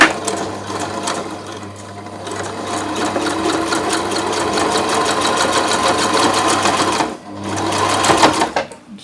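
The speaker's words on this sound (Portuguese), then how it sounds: "Cheguei na parte um pouco mais grossa, então vou fazendo aqui, ajudando com a mão." Sewing machine running steadily through a thick section of fabric for a bag, a loud continuous whir with rapid rhythmic needle knocking, a brief pause near the end before stitching resumes.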